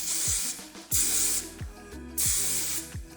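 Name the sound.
spraying Kenra working hairspray onto hair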